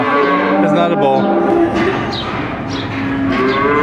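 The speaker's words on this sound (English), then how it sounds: "Oh, that's a cow. It's not a bull." A horned cow on a farm lets out a long, loud, close moo that swells and fades, followed by a second drawn-out low call, with no talk over it.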